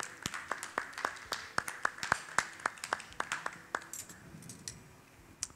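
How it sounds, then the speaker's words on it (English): A small audience at a glass-working demonstration gives a light round of applause, a few distinct claps in a steady rhythm that thin out toward the end, with no talking. "We say a nice round of applause."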